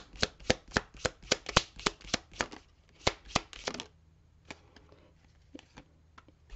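Tarot cards being shuffled by hand, a fast run of about a dozen crisp riffling snaps, a brief pause, then a few more snaps before the sound thins out into faint, scattered card taps, close and fairly quiet.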